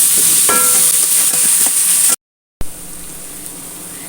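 Salted chicken sautéing and stirred in a hot pan, loud sizzling with scraping strokes for about two seconds, a brief cut to silence, then a softer steady sizzle.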